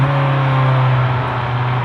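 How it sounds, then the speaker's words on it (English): A 2018 Kawasaki Z900 motorcycle with its stock exhaust runs close by, giving a loud, steady, even engine drone with no voices over it. "This bike sounds, even with the stock exhaust, it does sound very good."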